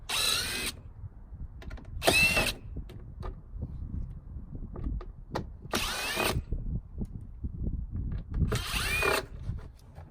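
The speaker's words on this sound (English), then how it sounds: "Next, you want to remove a number of these T15 head screws." A power driver backs out T15 Torx screws on the front wheel-well area of a 2014-or-later Sierra/Silverado pickup during a splash guard install, with four short, sharp whirring bursts spaced a few seconds apart and quiet handling noises between them.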